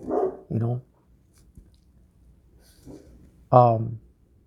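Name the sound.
Rottweilers barking behind a fence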